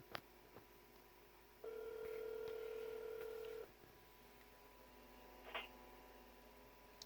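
A few dial-pad tones on a telephone line, one long steady tone then a short beep, faint and thin as if heard over a speakerphone.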